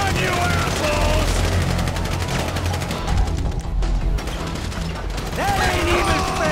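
Sniper gunfire in the video game GTA 5, with a thick, near-constant crackle of shots filling the scene while voices shout over the din.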